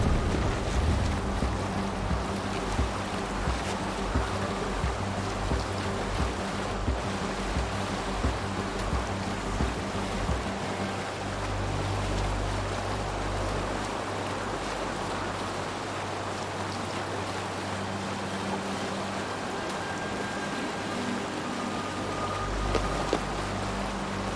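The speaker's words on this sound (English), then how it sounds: "Sail! Catch the wind!" Sailing ship crossing open water in the video game Assassin's Creed Valhalla, with a steady wash of waves and wind rushing around the hull, continuous and fairly loud throughout.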